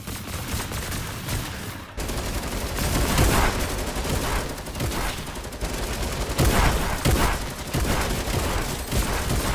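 Dense, loud automatic gunfire rattles almost without pause in a Fortnite match, bursts overlapping one another from start to finish.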